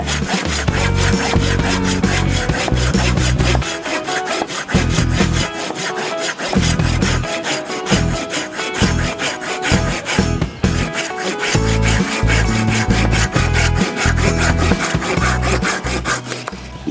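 A Silky GomBoy folding Japanese saw cuts through a roughly 2-inch tamarind branch, loud rhythmic rasping strokes in a steady back-and-forth pattern, close up and continuous with a short pause midway.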